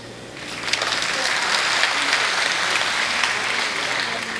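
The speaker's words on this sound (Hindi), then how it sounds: "आपने थोड़ी एडवांस में तालियां बजा दी है" Applause from the audience at a kavi sammelan poetry recital swells to a dense, sustained clapping that fills the whole stretch, loud and close, with a faint voice beneath.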